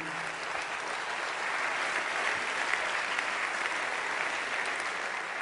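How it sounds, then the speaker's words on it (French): Public applause at the Vendée Globe 2016 awards evening, a broad, continuous wash of clapping from a large audience, steady and somewhat distant, with a brief voice at the very start. "sous les applaudissements du public"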